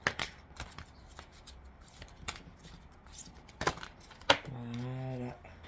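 Tarot cards are shuffled in quick, crisp riffles and slaps, close by with short pauses between bursts, ending on a brief tonal hum. No talk is heard over it.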